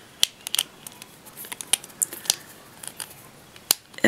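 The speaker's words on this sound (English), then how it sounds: "and remove the screws." Screwdriver backing screws out of an Xbox 360 controller, a series of sharp, close, irregular clicks and small plastic snaps scattered over a few seconds of quiet.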